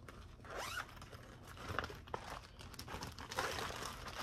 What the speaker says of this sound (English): Sorry for the zipping.